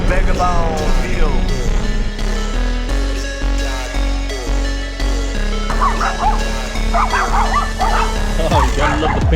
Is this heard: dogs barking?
yes